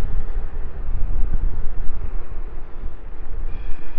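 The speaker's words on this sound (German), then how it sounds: "Es ist ein bisschen windig wieder heute." Gusty wind buffets the microphone outdoors during an off-road ride on a Trittbrett Sultan Plus e-scooter, making a loud, continuous low rumble that swells and dips throughout with no speech.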